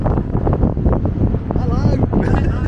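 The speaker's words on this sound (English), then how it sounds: "It's a bit windy." Wind gusting across the open pool deck of the Marella Explorer cruise ship in port at Puerto del Rosario, Fuerteventura, a steady buffeting roar over the microphone with people talking close by.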